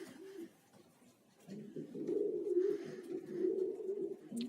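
A pigeon, a European parlor breed, coos in low, soft, rolling phrases, close by and fairly quiet, with a brief pause before the cooing swells and continues.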